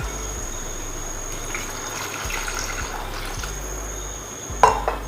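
Water runs into a pan for paneer butter masala with tomatoes and cashews, a soft, steady pouring trickle with a brief splash near the end, alone with no talk.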